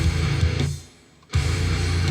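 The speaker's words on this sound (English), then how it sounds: "We then have a doubling of the guitars in the breakdown and in the final chorus to create a thicker sound overall." Doubled heavy distorted metal guitars in a breakdown, thick and loud, with a short gap mid-clip before the wall of sound returns.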